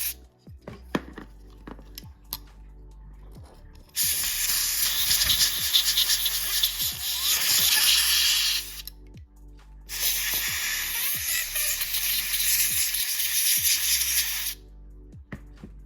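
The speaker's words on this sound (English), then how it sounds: "with a little bit of compressed air, we can just get in here" Compressed air sprays onto a dusty MacBook Pro cooling fan in two long, loud, steady hissing bursts of about five seconds each, with small clicks and handling noises close by before and between them.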